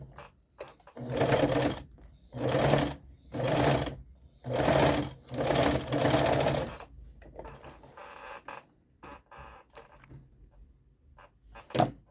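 Sewing machine stitching the edge of an orange fabric toy monster, running in several short bursts of rapid whirring stitches separated by pauses, followed by fabric handling, clicks and rustles near the end.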